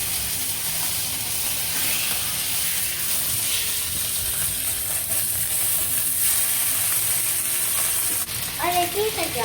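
A pork chop sizzles in a pan, a steady close frying hiss that runs throughout, with a brief clatter of utensils near the end.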